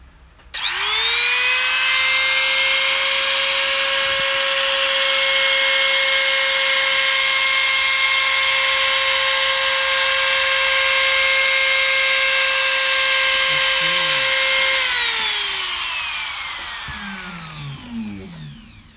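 A Total TLT 5001 1/4-inch trimmer router spins up to a loud, steady high-pitched whine, holds it for about fourteen seconds, then winds down as the motor coasts to a stop.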